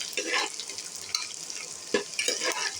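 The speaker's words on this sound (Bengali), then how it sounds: "পেঁয়াজের সঙ্গে আলুগুলো আরও কিছুক্ষণ ভেজে নেব" Potatoes and onions frying in oil with bay leaf, cardamom and cinnamon make a soft, quiet sizzle, punctuated by a few faint scrapes and clicks of stirring.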